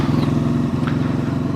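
A Honda VFR1200F motorcycle engine throbs with a close, rhythmic pulsing drone while being ridden at night on a commute home, loud and steady with no talking.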